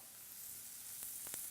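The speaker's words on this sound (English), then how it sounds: "Now you're going to want to go ahead and saute that around." Onions sautéing in a pan give a soft, steady sizzle and hiss, with a couple of brief stirring scrapes near the end.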